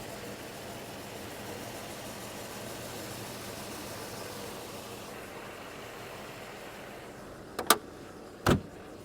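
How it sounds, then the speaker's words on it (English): A Mercedes R107's engine idles under the open hood with a smooth, steady hum, followed by two sharp clicks close together near the end. "Idle's just dead smooth, no vibrations or anything."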